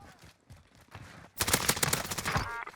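XM4 rifle fire in Warzone: after a second of faint, low background sound, a loud, sustained burst of rapid close gunshots runs for over a second before cutting off.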